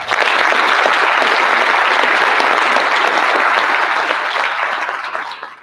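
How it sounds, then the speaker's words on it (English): An audience at a youth mental health symposium gives a round of applause. The thick, loud clapping fills the room steadily, then gradually fades out. "Will you please give them a round of applause?"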